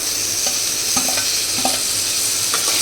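Tomatoes stir-fried in a pan for chicken gravy, giving a steady close sizzle and hiss with a few light stirring scrapes and clinks, no voices.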